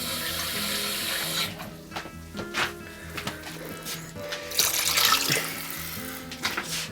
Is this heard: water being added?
yes